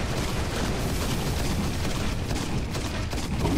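Dense, continuous gunfire and explosions from the Halo Reach video game fill the whole stretch at a steady loud level, a rolling barrage with no pauses and no talk over it.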